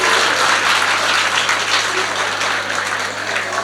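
A live audience at a Hindi comedy stage show applauds in a loud, sustained wave of clapping that holds for the whole stretch and eases slightly toward the end.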